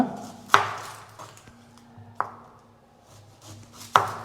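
A knife chops an onion on a cutting board with three sharp, separate knocks spaced well apart, close and crisp against an otherwise quiet room.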